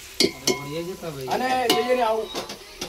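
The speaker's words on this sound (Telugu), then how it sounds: "ఏరా మొత్తం కలుపుతా. 4 కిలోల చికెను మొత్తం చుక్క ఫ్రై చేస్తున్నా." Stirring and frying 4 kg of chicken in a large pot at an outdoor forest feast, with metal spoon scrapes and clanks against the pot and a faint sizzle under continuous talking.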